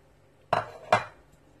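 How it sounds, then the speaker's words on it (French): Two sharp clinks of a utensil against a mixing bowl while chocolate brownie batter with added flour is stirred, spaced under half a second apart, close and clear with no talking. "Et je vais tout mélanger."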